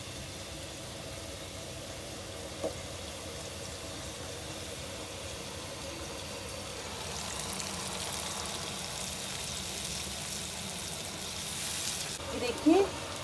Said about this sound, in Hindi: पाँच मिनट तक अच्छी तरह मसाले को भून लेते हैं।